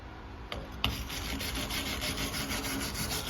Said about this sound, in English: you can use your rod brush, or you can use this. But that, you see how that slag comes off easy